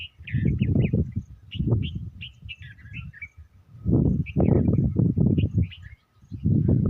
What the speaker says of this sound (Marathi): पक्ष्यांची किलबिल.